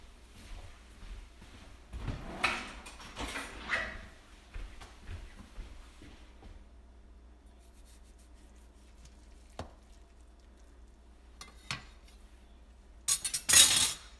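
A knife clinks and scrapes against dishes and a board in a farm kitchen while queso blanco cheese is cut. Bursts of clatter come early, then fall to scattered light taps and a louder clatter at the end.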